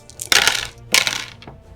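Dice clatter in two quick bursts across a tabletop during a Deadzone miniatures battle, bright rattling tumbles close by with a small tail of settling clicks, no voices.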